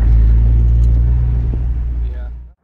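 A 2000 Honda Civic Si riding on coilovers rolls over a bumpy road, giving a loud, steady low rumble of tires and suspension that fades out at the end.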